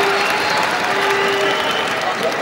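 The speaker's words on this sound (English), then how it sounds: "listen to the roar here from the crowd at the National Indoor Arena in Birmingham" A badminton crowd at the All England Open in Birmingham's National Indoor Arena keeps up a loud, steady roar with applause and cheering, while a commentator talks over it.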